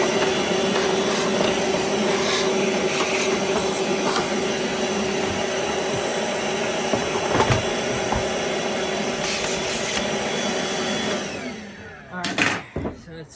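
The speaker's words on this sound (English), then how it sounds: "there's more dirt back here, so vacuum that out before I do anything else" A vacuum hose sucks dirt out of a Eureka Airspeed upright vacuum cleaner during a repair, a loud continuous whine holding steady before cutting off with a few clunks at the end.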